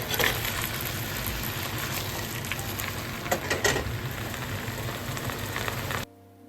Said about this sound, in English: We got the pork cooking.